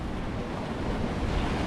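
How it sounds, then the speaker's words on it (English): Gusty wind and choppy water slap around Pirates Landing pier at night, a steady broadband rush of waves and wind buffeting the microphone with no voices. "Man, it's getting windy, guys."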